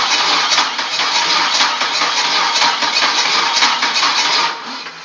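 An engine on a bench with its crankshaft and toothed wheel exposed runs in a steady, loud, broadband roar from start to near the end, then drops off in the final half second.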